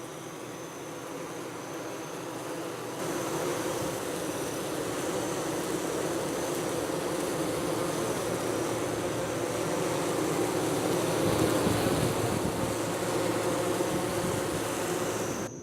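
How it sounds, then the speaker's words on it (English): Honey bees clustered at a hive entrance at night in a beeyard, a steady dense buzzing hum that swells slightly after a few seconds and holds evenly throughout, no voices. "right now the bees are primarily just hanging out at the entrance"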